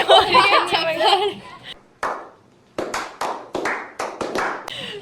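A burst of excited talk gives way to a run of sharp, close hand claps, about half a dozen spaced irregularly with short gaps between them.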